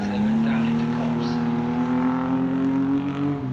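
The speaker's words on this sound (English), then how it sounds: "James Dodd now in the 27 car, absolutely together as they went down into Cops" Racing cars at Silverstone circuit roar past together in a loud, sustained engine drone with a steady high note, the pack close and continuous throughout with no pause.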